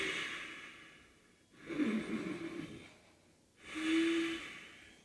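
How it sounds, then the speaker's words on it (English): Deep, slow breaths during a chair yoga flow, two long audible inhale-exhale cycles with pauses between, close and fairly soft, no talking. "Let's take 2 more breaths here."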